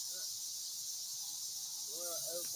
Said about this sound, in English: No, she's talking about the locust.